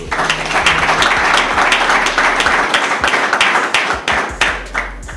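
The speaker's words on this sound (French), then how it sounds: "Acclamez pour ces joueurs" Loud, dense applause and clapping from a crowd cheering football players, sustained steadily with sharp hand claps throughout and no talk over it.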